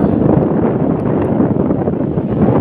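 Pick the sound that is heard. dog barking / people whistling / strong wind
strong wind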